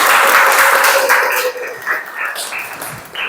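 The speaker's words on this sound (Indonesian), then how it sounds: "tepuk tangan buat Tete" Classroom applause in a civics lesson, a burst of many hands clapping loudly at first and then thinning into scattered claps, with some voices mixed in.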